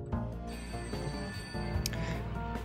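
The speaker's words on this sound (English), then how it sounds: "And of course the phone rings right away." A telephone rings in the Serial Cleaner video game, a steady electronic ring repeating over game music and ambient tones, loud and close.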